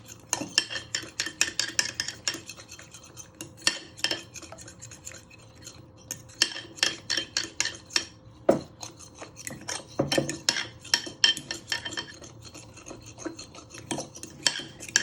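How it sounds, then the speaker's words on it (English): A whisk beats muffin batter in a tilted mixing bowl in rapid, uneven bursts of clinking and scraping, close and loud, with no talking. "You can put your bowl or mixing bowl, whatever you do it in, on a slant, so it's more easy to whisk."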